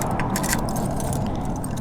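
Keys jangle and turn in the ignition of an electric bobber motorcycle, a short close metallic rattle and click with no engine noise following.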